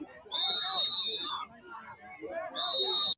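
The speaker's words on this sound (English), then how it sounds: "Here come the whistle again. It's the whistles." Shrill whistles blown by protesters at an ICE confrontation in Minneapolis pierce the air in two long loud blasts separated by a short gap, with voices shouting underneath.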